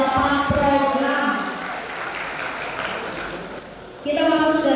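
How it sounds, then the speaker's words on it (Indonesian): Scattered applause fills the middle at a university graduation ceremony, framed by someone speaking over a microphone before and after. "Boleh berikan tepuk tangan lagi dong."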